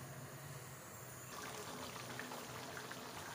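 Water being drained from a pot of rice for mutton yakhni pulao, a steady soft pouring and trickling stream that runs continuously, fairly quiet and close.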